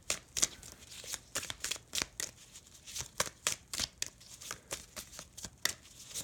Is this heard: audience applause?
no